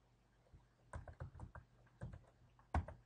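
Keys clatter on a computer keyboard, a quiet, close run of irregular taps and clicks that briefly pauses and ends with one sharper stroke.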